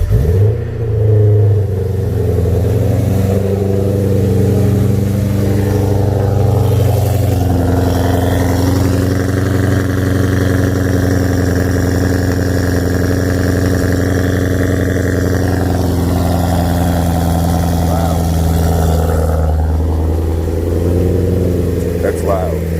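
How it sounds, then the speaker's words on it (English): A supercharged BMW E92 M3 engine cold-starts loud and close, roaring at a high, steady idle that slowly settles lower, with a person speaking over the engine. "since YouTube loves cold starts"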